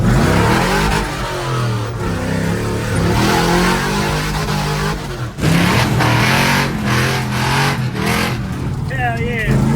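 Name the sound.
Chevrolet squarebody truck engine revving as ride starts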